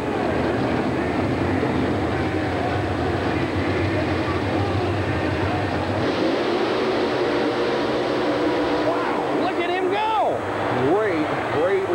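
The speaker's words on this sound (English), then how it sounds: "For Steve Baltazar, and that supercharged Ford-powered Ranger is in only its second event." Monster truck engines roar during a qualifying run at a 1990 USHRA mud and monsters event in New Orleans, including a supercharged Ford-powered Ranger, a loud, continuous distant rumble under an announcer's commentary and crowd noise.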